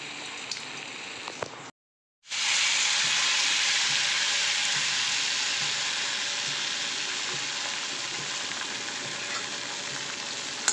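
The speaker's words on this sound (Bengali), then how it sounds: "এভাবে আমি এটাকে আবার ভেজে নিচ্ছি একইভাবে" Palm batter hitting hot oil in a wok: a quieter sizzle, a brief silent gap, then a loud, steady, bright frying hiss that slowly eases over several seconds, close up.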